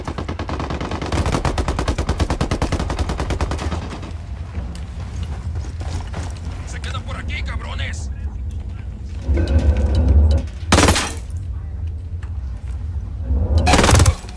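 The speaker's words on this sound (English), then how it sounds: "I'm opening fire on these shitheads." Gunfire in Ghost Recon: Wildlands comes as a rapid, dense rattle of shots early on, followed by scattered louder bursts and sharp cracks later, mixed with game ambience and occasional talk.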